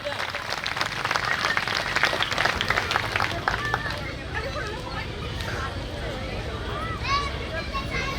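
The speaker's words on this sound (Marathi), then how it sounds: "या सर्वांसाठी आता जोरात टाळ्या होऊन जाऊ द्या" A crowd at a Vanchit Bahujan Aghadi victory celebration in Aurangabad bursts into loud, dense clapping that gradually thins out, with murmuring voices and an announcer talking over the tail.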